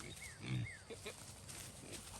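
Piglets on a farm give a few short grunts and squeals near the wire, faint and brief against quiet outdoor background.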